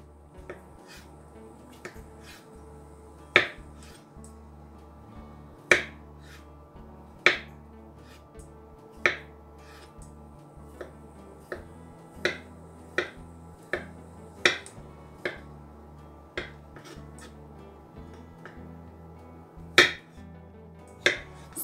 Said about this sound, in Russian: Картофель нарезаю кубиком.